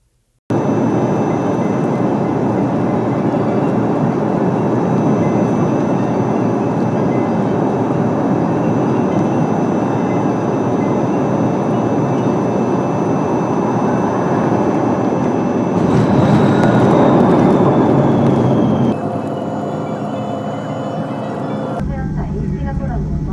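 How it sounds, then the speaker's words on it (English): Steady, loud broadband roar inside an airliner cabin as the plane prepares for landing, continuing unbroken before shifting and dropping near the end, with a brief tonal tone partway through. "the captain just announced to prepare for landing"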